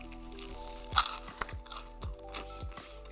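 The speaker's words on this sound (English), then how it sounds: "Get a snack" A snack is crunched and chewed close to the mic in ASMR style, with a series of crisp bites and crunches at irregular intervals and no talk.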